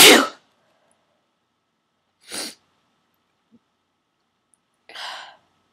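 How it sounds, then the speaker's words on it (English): A person sneezes forcefully three times, each a sharp, loud burst of breath separated by long silent pauses, close to the listener, with a faint breathy sound in between. "Sneezing so hard I'm literally crying."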